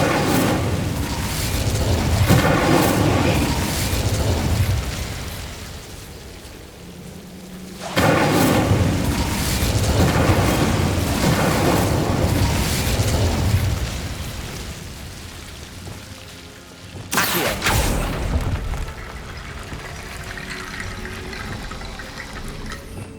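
Incendio fire spell from Hogwarts Legacy blasts out in loud, roaring bursts of flame, three heavy surges that each rush in and then cut off abruptly, with no voices.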